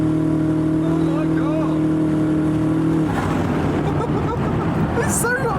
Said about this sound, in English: How, like, the engine noise doesn't change at all.